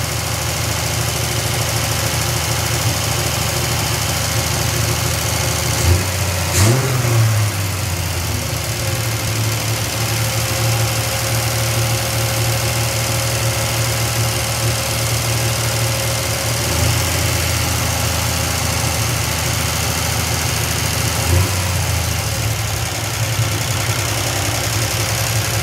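A Triumph TR6 engine idles steadily and close by, with a constant low rumble and a faint knocking running through it, and no one talks.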